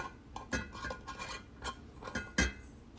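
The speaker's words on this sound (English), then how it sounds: "So we'll put the lids on it." Glass or metal lids clink and tap against jars of honeybee sugar-syrup feed, a handful of light, close clicks and knocks spread unevenly over a few seconds.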